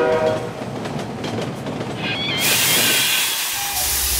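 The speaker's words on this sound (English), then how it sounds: "here comes the Sydney trains" A Sydney train passes close by, loud steady rail roar and clatter with a hissing rush rising as the carriages go past, no voices over it.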